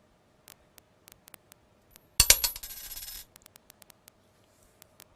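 Two coins tossed together land on a hard surface in a short burst of metallic clinks and rattling scrapes, preceded and followed by faint scattered ticks in a quiet room.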